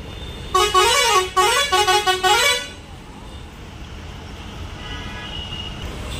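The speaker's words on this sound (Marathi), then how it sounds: "हा जो हॉर्न ऐकताय ना तुम्ही, हा मनीषवाल्याचा आहे।" Loud musical multi-tone horn of a sleeper-class, fully air-conditioned coach bus on a Mumbai-to-Konkan run during Ganesh festival season, blaring in two close bursts with a warbling pitch for about two seconds, then giving way to low traffic rumble.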